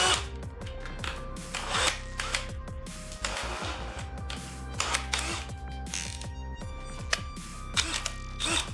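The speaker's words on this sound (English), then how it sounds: "I'm gonna do a little countersink." A countersink bit boring into a wooden workpiece beside a planer, the cutter's whir and grinding ratchet-like chatter running steadily and close for the whole stretch, with a few sharper bursts as the bit bites.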